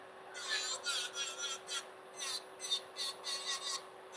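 A nail file rasps across a long fingernail in a salon setting, a quiet, close run of short rhythmic strokes, about a dozen back-and-forth passes in a steady cadence with no talking.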